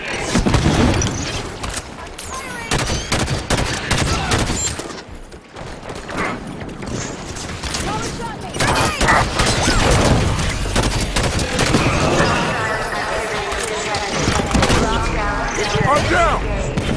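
Sustained bursts of automatic gunfire and booming explosions in a Halo 5: Guardians battle, loud and continuous throughout, with voices calling out over the shooting.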